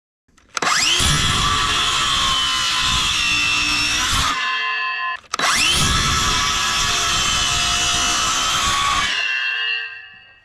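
A power tool cuts bird's mouth notches into wooden rafters for a pig shelter, in two loud, sustained whining runs of about four seconds each, close up with a short pause between them.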